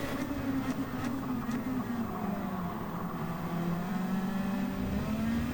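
Race car engines in the video game Gran Turismo 7, a steady mid-pitched drone with pitch that slowly rises and falls, fairly quiet, with a few faint clicks and no talk.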